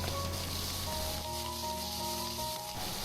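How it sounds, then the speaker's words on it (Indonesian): A ground spice paste fries in a wok in oil left over from frying anchovies, giving a steady, close sizzling hiss that continues without pause, with a faint low hum underneath and no talking. "Masih di wajan yang sama, dari sisa minyak menggoreng teri, kemudian kita masukkan bumbu yang udah dihaluskan"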